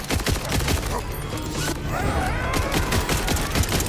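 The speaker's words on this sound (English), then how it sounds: "Okay, those grenades are insane." Rapid, dense bursts of grenade explosions and crackling impacts erupt in the Borderlands 4 shooter game, loud and close in a continuous barrage, with a faint voice underneath.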